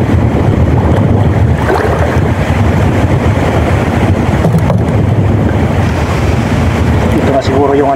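Strong typhoon wind roars continuously against the microphone, a loud, unbroken buffeting rush with a churning, surf-like texture throughout.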